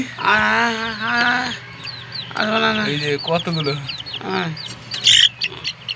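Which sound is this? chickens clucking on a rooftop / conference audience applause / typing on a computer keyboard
chickens clucking on a rooftop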